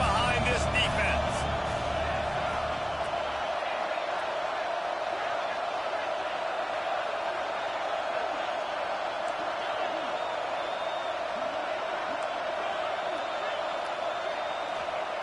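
Stadium crowd in an American football video game, a broad continuous roar filling the background at steady loudness throughout, with low thumps in the first few seconds.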